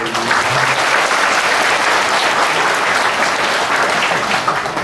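Steady, dense applause from an audience at a Buddhist temple talk, close and loud, sustained evenly for several seconds without a break.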